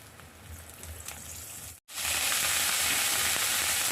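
Stuffed pointed gourd (parwal) frying in oil on a very low flame: a soft sizzle that cuts out briefly, then returns as a louder, bright, steady crackling hiss.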